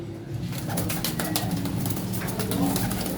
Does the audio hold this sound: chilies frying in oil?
no